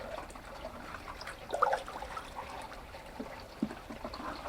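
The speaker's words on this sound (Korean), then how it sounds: "그 다음에 액비를 저번에 담가 놓은 거를 주도록 하겠습니다." Water mixed with homemade liquid fertilizer is poured onto a no-till pepper field, a soft steady trickle and splash with a couple of louder sloshes, close and alone.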